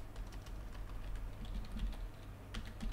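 Rapid keyboard typing while writing code in Unity for a game health bar: a steady run of light, close clicks under a low background hum, with no voices.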